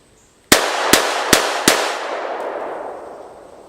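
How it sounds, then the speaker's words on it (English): Four rapid pistol gunshots fired as fast as possible, each a sharp, loud crack close by, spaced under half a second apart, followed by a long fading echo. "I'm going to shoot real fast as I can shoot"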